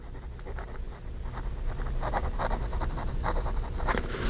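A smooth, lightweight pen moving across planner paper, producing a soft continuous scratching with short rhythmic strokes, close up and steady throughout.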